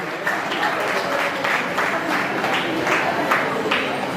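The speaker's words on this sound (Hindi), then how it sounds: "इसीलिए जोरदार तालियां इन बच्चों की प्रस्तुति के लिए।" An audience applauds a children's performance at a cultural program, a steady wash of many hands clapping throughout with rhythmic swells, moderately loud and unbroken.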